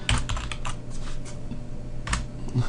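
Typing on a computer keyboard, quick irregular clicking keystrokes close up over a steady low hum, no talking.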